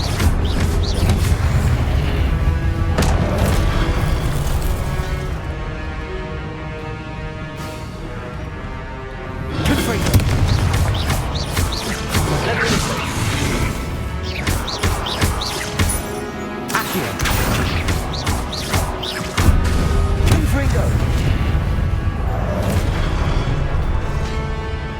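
Confringo fire spell blasts in the Hogwarts Legacy video game, a series of loud booming, crashing impacts and bursts repeating over sustained game music and rumble.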